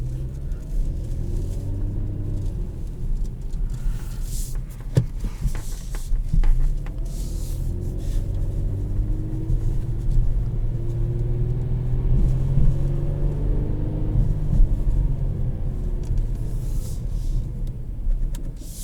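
A 2021 Kia Stinger GT1 with its 3.3-litre engine pulls forward, giving a steady low rumble that swells under acceleration, heard from inside the car.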